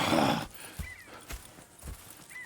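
Horses in Red Dead Redemption 2 snort and whinny over a few irregular, fairly close clip-clopping hoof steps, with a louder breathy burst at the start and no talk.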